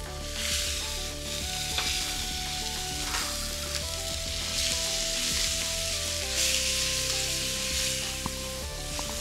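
Arrachera beef sears in a hot frying pan with a steady, loud sizzle running throughout, joined by a constant hum and occasional scraping or stirring noises.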